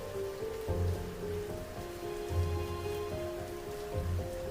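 Heavy rain pours steadily over a village, a dense continuous hiss with a few heavier low thumps of drops and runoff, loud and close, with no voices.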